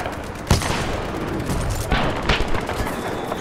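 A sniper rifle fires in Titanfall 2 amid the din of a busy match, with a sharp close crack and further bursts of gunfire and booms under continuous battle noise.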